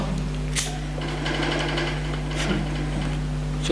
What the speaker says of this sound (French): C'est le bruit de mon frigidaire.